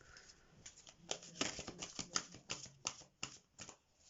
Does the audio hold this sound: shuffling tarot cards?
yes